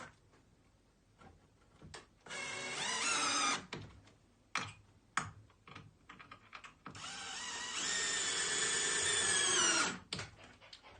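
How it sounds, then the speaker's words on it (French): A power drill driving long silver screws into a bed frame, two sustained whirring bursts of a few seconds each, separated by clicks, knocks and handling noises, close and clear, no voices. "on visse avec les deux grandes vis argentées"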